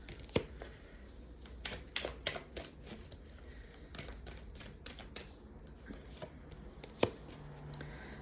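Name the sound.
tarot cards being shuffled and drawn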